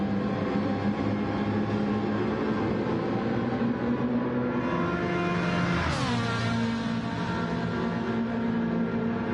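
Race cars in the Gran Turismo video game drive through the Le Mans chicane, giving a steady, loud engine roar with a sharp pitch sweep as one car passes close by midway.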